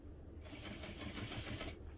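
Sewing machine stitching through vinyl, a steady rapid mechanical chatter running close and loud through most of the stretch, then stopping abruptly near the end.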